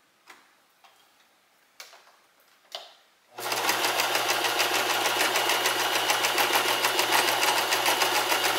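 A sewing machine stitches a fabric heating pad, starting after a few soft clicks and handling sounds and then running as a steady, close, rhythmic whir with fast ticking to the end.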